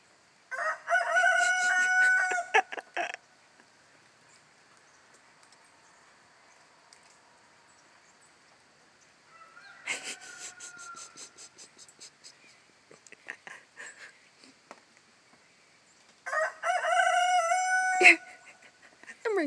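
Three loud Leghorn rooster crows ring out close by, spaced several seconds apart, with softer clucking and faint calls in the quiet gaps.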